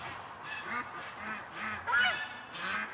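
Ducks give a run of about five nasal, honking quacks in quick succession. The calls are close and clear, with no voices.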